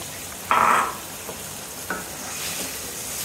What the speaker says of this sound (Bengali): এখন এটার মধ্যে দিয়ে দেব চিংড়ি মাছ।